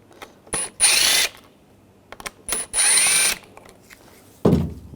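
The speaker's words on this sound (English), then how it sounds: "We're going to take these two screws out, use a T20 socket." A power driver with a T20 socket backs screws out of a 2014-2018 GMC Sierra 1500 tailgate handle, giving two loud, close, sustained whirring bursts a second or so long, with faint clicks between them and a low thump at the end.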